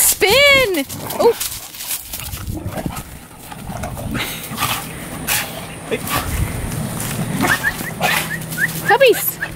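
Puppies whimper with high, rising yelps and short barks, close by, mixed with a person's voice and outdoor rustling over a steady hum.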